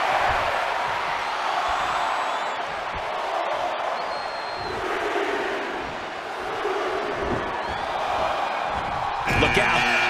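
Arena crowd noise from a WWE 2K20 Royal Rumble match in the video game, a steady dense roar with rising chants and cheers as the audience counts along, running continuously beneath the action and commentary.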